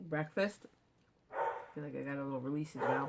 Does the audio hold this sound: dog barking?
yes